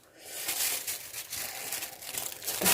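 A plastic sheet crinkles and rustles as it is laid over homemade aged miso, a continuous close crackling that swells and eases with handling, no talk.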